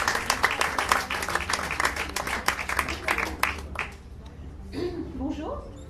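Festival crowd at Solidays applauding a speaker onto the stage, dense clapping for about four seconds that fades out as a voice begins speaking near the end.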